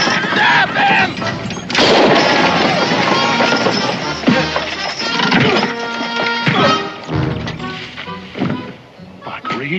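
Gunfire in a 1969 Western television episode, with a loud sharp shot cutting through a dense mix of action noise, movement and voices.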